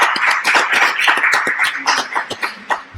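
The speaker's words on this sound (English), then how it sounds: "I think we give a last applause to you." Audience applause closing a conference presentation at GeekFest Berlin, a dense patter of many hands clapping that thins toward the end, with a few louder individual claps standing out near the finish.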